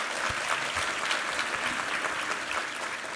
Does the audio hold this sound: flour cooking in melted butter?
no